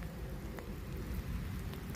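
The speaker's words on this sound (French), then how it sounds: "mais là il pleut beaucoup là." Heavy rain pouring down in a steady, dense wash of noise that continues without a break, with no other sounds standing out.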